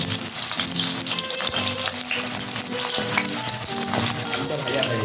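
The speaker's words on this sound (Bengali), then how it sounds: "আলুটা জাস্ট একটু ভেজে নেব বন্ধুরা জাস্ট একটু আলুটা আমি ভেজে নেব" Potatoes crackle and sizzle in hot oil, a dense, steady frying hiss with occasional pops and light stirring close by.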